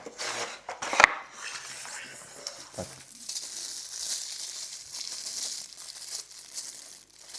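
An Ardesto Gemini Lucca AR1924LCS cutlery set is handled, with metal pieces packed in small plastic bags: there are scattered light clinks and one sharper clatter mixed with plastic crinkling and rustling at close range.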